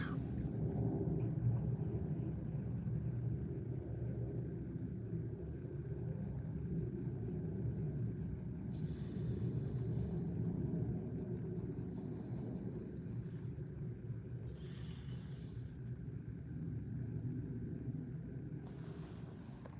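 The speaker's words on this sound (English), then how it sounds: "A lot of cars are actually on the move, coming in, going out." Steady low rumble of cars coming and going at Ottawa Airport, taxis pulling out, a continuous distant traffic drone with occasional brief hissy passes.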